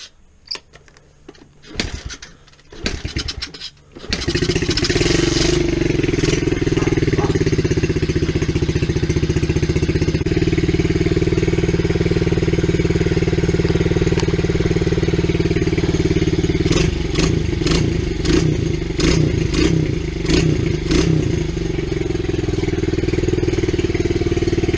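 A Kawasaki KLX 110 pit bike, bought cheap, starts after a few short cranking bursts, then settles into a steady, loud, close idle and revs up sharply in several quick blips near the end.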